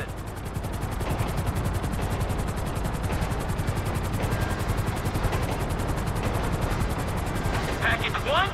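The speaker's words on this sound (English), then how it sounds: "There's two choppers coming toward my train." Two helicopters approach in Grand Theft Auto 5, a loud steady rotor thump throughout with dense rapid chopping and a faint tone near the end.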